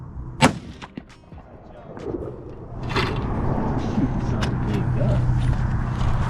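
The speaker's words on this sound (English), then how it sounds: "Let's see if you can shoot, Jace" A sharp gunshot from target shooting rings out near the start, followed by fainter pops and a steady outdoor rumble as the clip continues.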